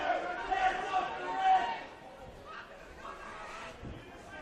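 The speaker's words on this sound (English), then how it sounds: "It's been a while since I've heard a boisterous crowd like this one today." A boisterous crowd at a men's football match between Sydney United 58 FC and Western Sydney Wanderers FC, a steady distant murmur of chatter and shouts beneath a commentator's voice.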